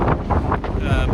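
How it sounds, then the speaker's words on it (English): Strong gusts of wind buffet the microphone outdoors at the Shipka Memorial Church in Bulgaria, a loud continuous rumbling roar that swells and dips without pause. "Sorry for the wind, I hope it's not too windy for you."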